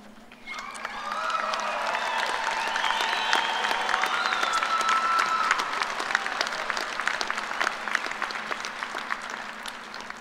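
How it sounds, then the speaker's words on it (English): Sustained applause from graduates and guests fills a Kansas State University agriculture fall commencement ceremony, starting abruptly and holding steady at full volume across the hall, a dense wash of many hands with a few cheers mixed in. "The next line on the script was join me in a round of applause"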